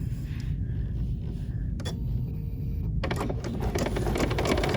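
A BERNINA sewing machine stitches out a drawn design with rapid mechanical whirring and clatter, pausing briefly before a busier burst of stitching at the close; close and moderately loud.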